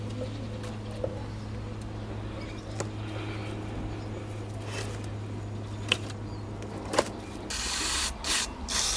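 A scraper rasps old gasket material off a Fiat Punto MK2 rocker cover in faint, uneven strokes and small ticks, close up in a quiet shop with a low steady hum underneath.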